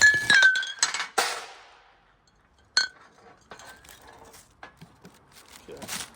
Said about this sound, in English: Camera just knocked down the glass.